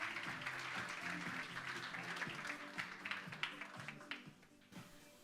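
An audience in a conference hall applauds to welcome France Charruier of the CPME 31 onto the stage, with steady clapping through most of the stretch that thins into scattered claps toward the end.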